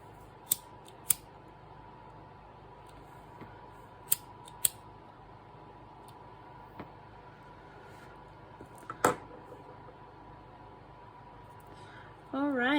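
Scissors snip through micro macrame bracelet cord in a few sharp, close clicks spread across a quiet stretch, trimming the ends to about an inch.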